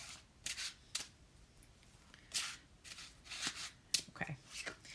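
Playing cards are shuffled in several quick, crisp riffling bursts, close by and fairly quiet, with short pauses between.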